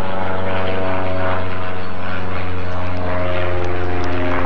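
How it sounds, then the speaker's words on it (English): A propeller airplane drones steadily and loudly overhead on a day hike in the Great Smoky Mountains, a continuous deep engine hum that fills the whole stretch with no talking. "the plane."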